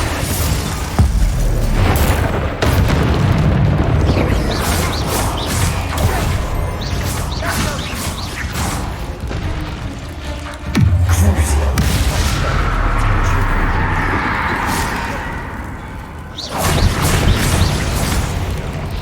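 Bombarda blasting spells set off heavy booming explosions in Hogwarts Legacy, the loud blasts crashing in bursts amid a busy, continuous battle din.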